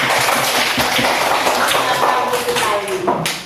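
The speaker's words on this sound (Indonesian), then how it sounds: "Memang kita tepuk tangan." Students in a classroom clap together, a loud, busy patter of hands with sharp individual taps, continuing for a few seconds before trailing off.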